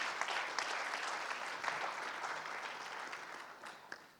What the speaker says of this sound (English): A round of applause for this gentleman to my right.